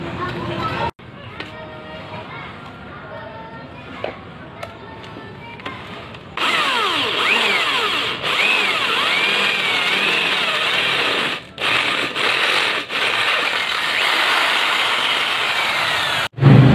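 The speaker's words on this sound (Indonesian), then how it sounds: "Sekarang saya gunakan bor listrik ya." An electric drill bores into iron, a steady whining grind that swells louder partway through with a few brief pauses, while someone talks over the earlier, quieter stretch.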